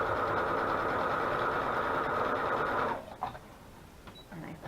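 Sewing machine stitching through journal pages, a loud steady close whir for about three seconds that stops, followed by faint handling clicks and rustles.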